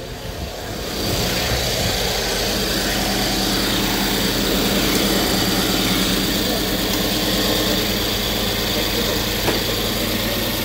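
A BMW F02 car engine starts and settles into a steady, loud running hum with a broad whirring tone, no talk heard.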